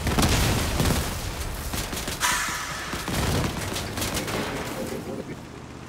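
Pulsar guns firing in a multiplayer video game battle, a dense, continuous stream of rapid shots and booming impacts that runs loud for the full six seconds.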